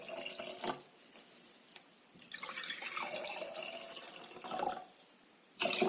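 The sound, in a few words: pouring cooled boiled water into a jar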